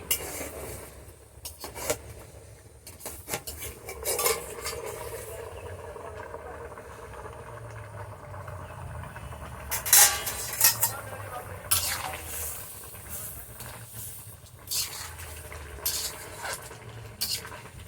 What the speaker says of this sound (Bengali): আমি এবার ঢাকনাটা একটু খুলে দিচ্ছি, খুলে নেড়ে দিচ্ছি